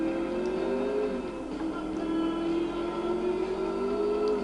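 Stolen police car driving in the GTA 4 video game, a continuous engine whine rising and falling gently as it accelerates and eases off, steady and fairly loud with no talk.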